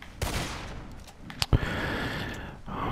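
Gunfire in Red Dead Redemption 2 during a shootout mission, a few scattered sharp shots with one loud close crack, set over continuous game ambience.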